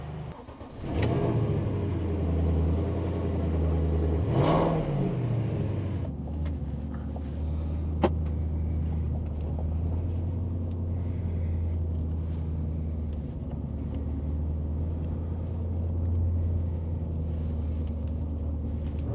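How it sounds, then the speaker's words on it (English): A Porsche engine idles and then revs up sharply before settling into a steady low hum, close and continuous, with no voices. "we will now start the car and hopefully enjoy a good stretch of German Autobahn"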